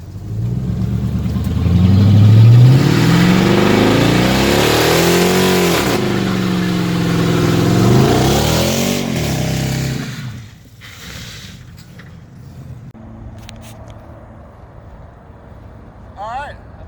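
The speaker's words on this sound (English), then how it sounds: "Anybody can do a burnout with a Hemi." A Ram pickup with a V8 Hemi revs hard through a burnout, the loud engine rising and falling in repeated swells for about ten seconds before dropping away to a faint idle, with a voice talking over it.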